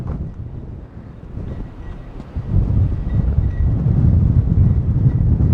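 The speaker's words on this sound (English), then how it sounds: "It's actually so windy I can see it moving the gimbal a little bit." Strong gusts buffet a phone mounted on a gimbal stabilizer outdoors, a loud low rumbling roar that swells midway and stays heavy to the end, with no speech.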